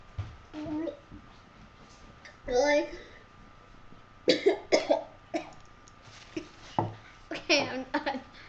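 Someone choking on milk coughs in several sharp bursts, while other voices chatter and talk around the coughing.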